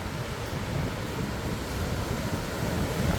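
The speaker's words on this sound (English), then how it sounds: "look at all those waves." Ocean surf breaks along a breezy St. Augustine beach near a fishing pier, a continuous rushing wash of waves blended with gusty wind rumble on the microphone, no talking.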